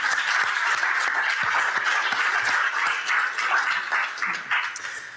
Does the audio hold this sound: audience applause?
yes